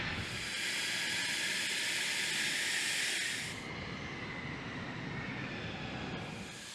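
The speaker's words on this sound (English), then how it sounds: "the F-16s landed at the Kalix Air Base in Sweden" A loud, broad jet roar with hissing from F-16 fighter jets landing at Kalix Air Base, Sweden, easing slightly partway through as the aircraft passes; no voices.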